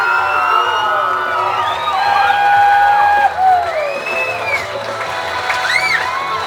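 Wedding reception guests at Wachusett Village Inn in Massachusetts applaud and cheer for newlyweds, a loud, sustained crowd roar with whoops and whistles sweeping over the clapping throughout.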